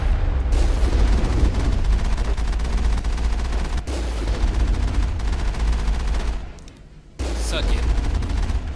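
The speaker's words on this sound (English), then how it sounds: "we're gonna blast them with a tank." Tank cannon fire and battle noise in the video game Mass Effect, a dense, continuous barrage of booming blasts and gunfire, loud throughout with a brief lull near the end.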